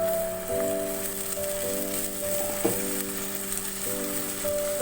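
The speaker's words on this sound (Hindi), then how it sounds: "एक से 2 मिनट के लिए कीमे को ऑयल में अच्छी तरह से भूनेंगे" Minced keema sizzles and crackles steadily in hot oil with onion and spices, a continuous close frying hiss with a faint tonal hum running underneath and occasional stirring clatter.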